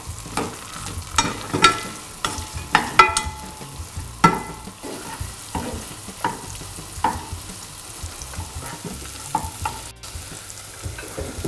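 Half a red onion sweats in melted butter in a pan, giving a soft, continuous sizzle broken by repeated stirring scrapes and taps, with no talk.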